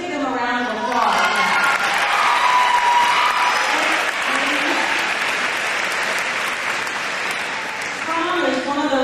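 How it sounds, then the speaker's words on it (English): Audience applause at a high school prom event fills the room steadily from start to finish, dense and close, with a few cheers mixed into the clapping. "let's give them a round of applause"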